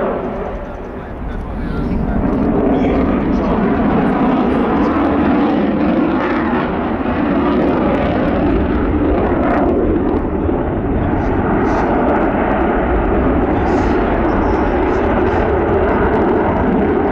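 Jet aircraft flying a display at the RIAT 2024 airshow, a loud continuous engine roar that stays steady and close for the whole stretch, with voices and crowd noise mixed in underneath.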